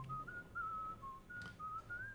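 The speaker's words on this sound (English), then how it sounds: "Mitch, can you teach me how to whistle" Whistling within the video game Shadows Over Loathing: a thin, clear melodic whistle in short wavering phrases, faint and steady over low background hum, with no talk.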